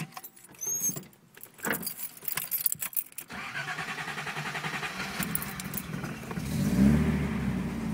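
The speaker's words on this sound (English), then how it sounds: "I'll go ahead and start the car. This is the first start of the day" A 1974 Datsun 260Z with a MagnaFlow muffler, on its first start of the day: a few seconds of clicks and handling sounds, then the engine catches and settles into a steady idle that swells near the end.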